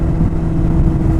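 A Kawasaki ZX-10R sports motorcycle at very high speed gives a loud, steady roar, with engine drone and heavy wind rush filling the whole brief moment.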